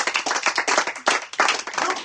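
A church congregation claps in acclaim of Jesus with brisk, rhythmic hand claps that repeat steadily and close together. The clapping is lively and fills the room on its own, with no talk over it.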